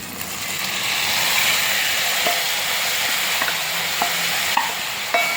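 Roasted coconut poured into a pumpkin curry hisses and sizzles in a steady, loud wash, with faint clinks of a spoon stirring the pan.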